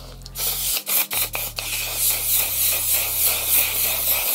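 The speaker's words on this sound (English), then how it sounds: "so I'm gonna spray it now because" A few quick spritzes from a setting spray, then a longer steady hiss of mist close by, over a low background hum.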